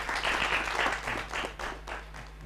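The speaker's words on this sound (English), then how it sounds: "Give him a hand of applause" An audience applauds a pupil at a school safety event, a short burst of many people clapping close by that swells then eases, with a low steady hum underneath.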